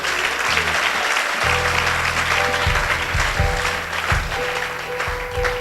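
A church congregation at a Sunday service applauds and cheers for Jesus with sustained, dense clapping, joined by loud low musical tones from instruments or organ throughout.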